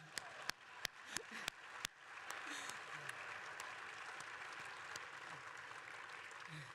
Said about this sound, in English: You need to keep clapping, come on.